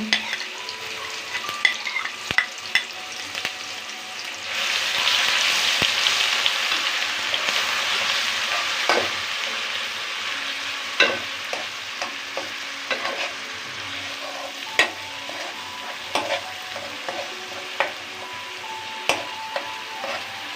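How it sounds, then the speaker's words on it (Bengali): Prawns and spices being sautéed in a pan for a malai curry, a steady sizzle with frequent sharp scraping clicks of a spoon stirring throughout, louder in the middle stretch, close and with no talking. "এগুলোকে ভালোভাবে কষিয়ে নেব"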